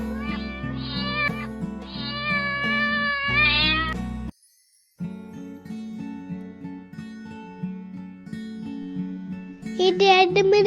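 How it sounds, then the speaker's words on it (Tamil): Cat meowing sounds set within a farm-animal quiz piece, with a repeated melodic tune running underneath, a brief silence midway and a louder high mewing cry at the end. "பூனை."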